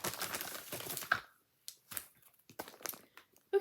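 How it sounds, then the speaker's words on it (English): A small pull tab ripped off plastic packaging holding a backpack, with a sustained close crinkling and tearing rush followed by several sharper separate rustles and crackles. "There's a little pull tab here, so I'm just gonna rip that off."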